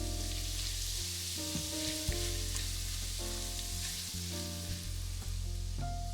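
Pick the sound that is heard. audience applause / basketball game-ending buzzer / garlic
garlic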